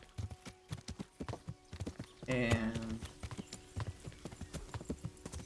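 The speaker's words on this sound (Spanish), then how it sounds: "vamos ahí a la chapa con el caballito" Horse hooves clip-clop steadily in the Kingdom Come: Deliverance video game, a brisk, close rhythmic beat, briefly interrupted by a whinny. Quiet overall, with a voice talking over it at times.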